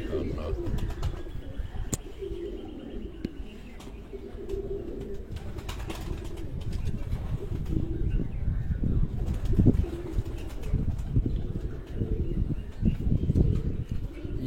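Chino Frans pigeons kept at a home loft in Sargodha, Pakistan, coo repeatedly at close range amid light rustling and movement, with occasional human talk mixed in.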